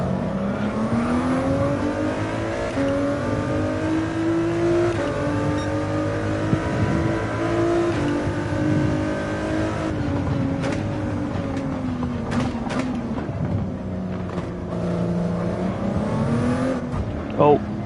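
A race car engine revs and drones continuously in a racing video game, the pitch rising and falling through gear changes and corners, loud and close, with brief clicks near the end and a person talking over it.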